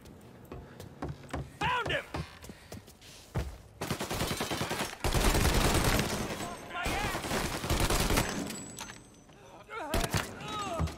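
Bursts of rapid gunfire crackle through the soundscape of the game Mafia: Definitive Edition, some long sustained volleys separated by pauses, with voices talking in between.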